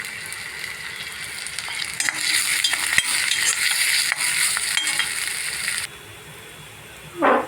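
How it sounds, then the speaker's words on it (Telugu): Onions fry in a pan for an egg keema as cumin and curry leaves go in. A steady, close sizzle mixes with scraping stirs, softens after a few seconds, and ends with a short clank. "ఉల్లిపాయలు బాగా వేయించుకున్నాము. ఇదిగోండి, కొద్దిగా జీలకర్ర వేద్దాం."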